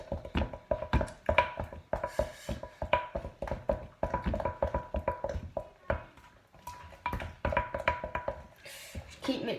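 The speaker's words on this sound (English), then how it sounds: "So mix that until there's no lumps left." A utensil beats chocolate vanilla cupcake batter in a cup with fast, regular clinks and taps against the sides, close and crisp, continuing in rhythmic bursts with short pauses.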